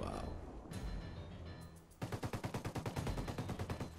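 Rapid automatic gunfire in the video game Ghost Recon: Wildlands, a loud sustained burst of evenly spaced shots in the second half, preceded by scattered single shots and noisy game ambience.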